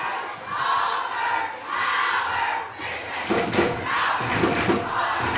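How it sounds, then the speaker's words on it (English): A high school football crowd for the Astoria Fishermen roars and cheers in the stands, rising in surging waves with shouts and claps, loud and outdoors, no clear speech. "Fisherman crowd coming alive here"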